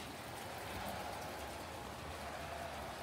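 Steady rain falls outdoors on a dark night, a constant even hiss with no breaks and no voices.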